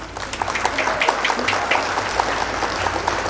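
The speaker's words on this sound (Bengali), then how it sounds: "বাচ্চারা এখানে সবাই হাততালি দেয়।" A group of children clapping together for a Teacher's Day speech, a short burst of brisk, fairly loud applause with quick uneven claps close by.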